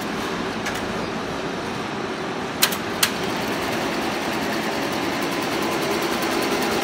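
A Tajima embroidery machine runs at its 1000 maximum speed, giving a steady, loud mechanical whir with fast rhythmic ticking, broken by two sharp clicks midway.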